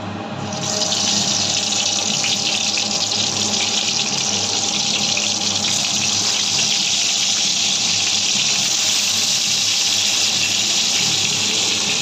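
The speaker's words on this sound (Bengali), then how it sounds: "তেল গরম হয়ে গেছে বেগুন দিয়ে দেবো" Turmeric- and salt-coated eggplant slices drop into hot oil for Bengali begun bhaja, and after a brief quiet moment a loud, even sizzle starts and holds strong to the end, with no one talking.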